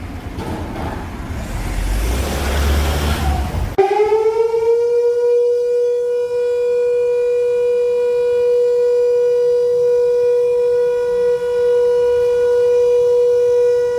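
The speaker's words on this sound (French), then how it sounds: "au retentissement de la sirène qui annonce l'heure de rompre le jeûne" A civil defense siren sounds the time to break the Ramadan fast, rising out of a burst of loud broadband noise into a long, steady, powerful wail that holds unbroken and close.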